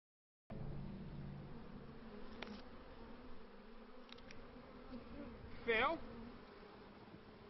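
Honeybees buzz as a steady, dense hum at an open beehive on a sustainable, mite-tolerant bee farm. The drone carries through the whole stretch, close and even, with a brief louder swell as one bee passes near.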